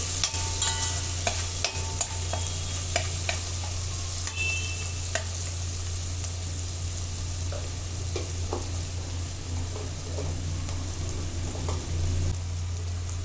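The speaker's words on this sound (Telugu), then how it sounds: "ఇలా వేయించుకోండి" Dried prawns and cucumber frying in a pan with turmeric and onion, a soft continuous sizzle under a low steady hum, with a few clicks and scrapes of stirring early on, nearby and no one talking.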